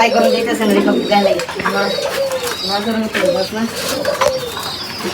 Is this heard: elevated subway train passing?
no